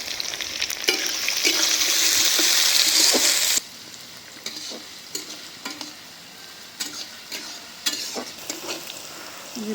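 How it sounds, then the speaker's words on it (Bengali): Onion, garlic and green chili sizzle loudly in a hot pan for about three and a half seconds, then the frying quiets and gives way to intermittent scraping and stirring sounds up close. "যে পেঁয়াজ রসুন সব ভাজা নিলাম"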